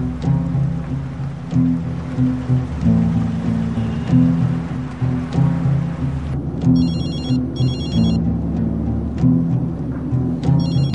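A telephone rings repeatedly in paired electronic bursts over a low steady background hum, fairly close and clear.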